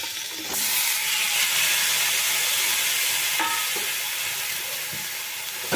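Spiced masala thinned with a splash of water sizzles steadily in a pan over low flame as drumsticks are stirred in, a close, continuous hiss broken by a few scraping stirs.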